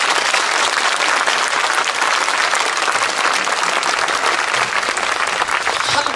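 Loud, dense applause from a large audience at a public lecture in Bongha Village, continuous heavy clapping that stays close and full for the whole stretch.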